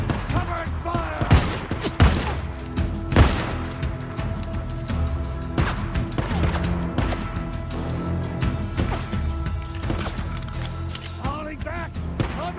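Sustained gunfire in the video game Days Gone: dense, loud bursts of shots and sharp impacts rattle continuously across the scene, mixed with game effects and shouted voices.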